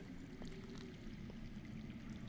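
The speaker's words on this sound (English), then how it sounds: "I hear water. From underground." Underground water flowing in a cave setting in a Game of Thrones video game, a soft continuous pouring and trickling stream, faint and steady throughout.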